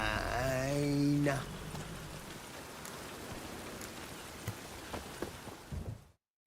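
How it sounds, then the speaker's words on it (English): Rain falls steadily in The Witcher 3 as a soft, even hiss of droplets under a brief voice at the start, with occasional louder drips before it cuts off. "rain."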